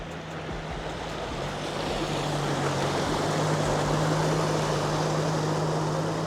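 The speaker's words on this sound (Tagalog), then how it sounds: "Lakas din yung ragasan ng tubig Palabas siya dito." Floodwater rushes steadily beneath the Candaba Viaduct expressway, a broad continuous roar that swells slightly louder, with a low droning hum running underneath.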